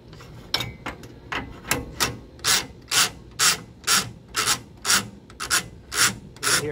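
Ratchet starting the nut on a rear axle hub while the backing plates are replaced, a run of quick rasping clicks in short bursts, close and fairly loud, with no talking.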